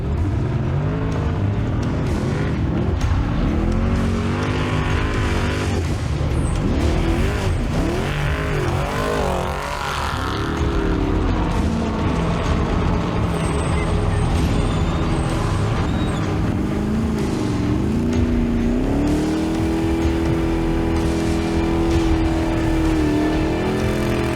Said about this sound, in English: The truck has to keep moving forward at any speed.